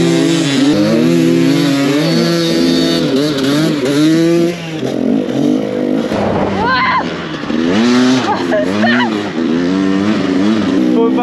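A motorbike engine revs hard and changes pitch on a muddy homemade garden track, loud and near with repeated throttle surges, while people speak over it.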